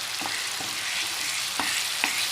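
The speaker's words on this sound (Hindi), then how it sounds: "अब हम इसमें कीमा डाल देंगे।" Minced meat keema hitting a hot pan with whole spices and green chilies, giving a steady loud sizzle and frying hiss with a few soft stirring scrapes, no voices.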